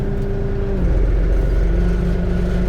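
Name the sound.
LS tractor engine starting and running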